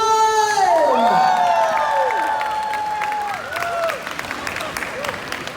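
A mall crowd at a drag event cheers and applauds loudly for couple number 1, with whoops and high shouts over sustained clapping that slowly eases off.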